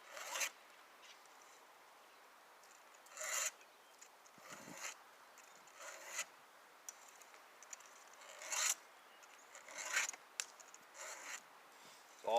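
A file scraping along an axe blade makes repeated short rasping strokes at irregular intervals, close but quiet, separated by near-silence.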